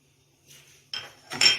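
A spoon clinks against a pot while sugar and cardamom powder are stirred into cooking sago fruit custard, three short metallic scrapes growing louder after a quiet start.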